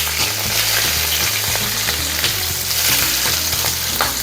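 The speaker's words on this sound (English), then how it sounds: "You can hear it sizzle." Chicken asado pieces frying in a hot pan, a loud, steady sizzle with crackling pops running continuously and close up, with no voices over it.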